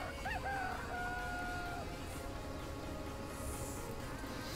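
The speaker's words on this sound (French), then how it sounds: "Attention les poules." A rooster crows once near the start, with faint clucking from farm chickens in Farming Simulator 17, under a steady low rumble of game background noise.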